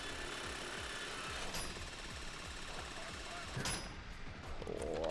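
A heist drill in the video game Payday 3 grinds on with a steady mechanical rattle, a dense continuous buzz that runs the whole time, with a couple of brief sharp clanks partway through.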